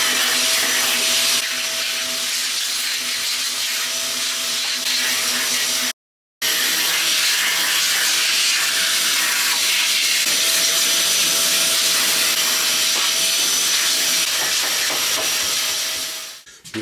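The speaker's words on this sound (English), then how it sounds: "I'm just going to give it a vacuum over" A vacuum cleaner runs over a filthy 1920s hallstand with a loud, steady hiss and whine, cutting out briefly once before resuming, then winding down at the end.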